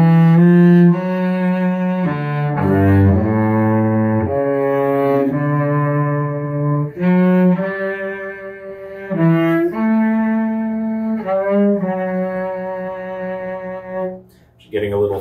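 A cello plays the melody of Joy to the World as a duet part, with bowed, sustained notes stepping through the tune in a clear, close, continuous line for about fifteen seconds, without talking.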